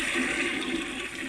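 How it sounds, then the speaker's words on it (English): A toilet flush sound effect plays in a furry visual novel game, a steady rushing wash of water that holds at an even level for its short length, heard alone without voices. "Toilet flushing?"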